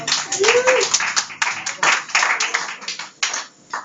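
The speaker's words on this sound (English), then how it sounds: "give him a hand of applause" Concert audience clapping for the smoke machine operator, uneven bursts of hand claps with a brief voice or whistle near the start.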